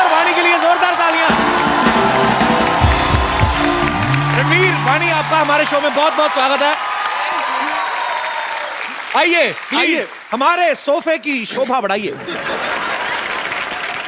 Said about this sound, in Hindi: रणवीर और वाणी के लिए जोरदार तालियां।